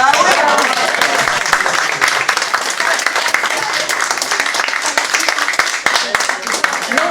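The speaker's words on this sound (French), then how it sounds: "Je vous propose aussi d'applaudir" An audience at an afternoon spiritual retreat claps steadily for several seconds, a dense, even patter of many hands filling the room, with faint voices mixed in.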